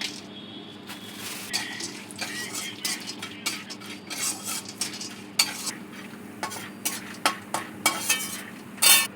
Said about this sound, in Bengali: আলুটা এটা একটু বাদামটা একটু নাড়াচাড়া করে নেব।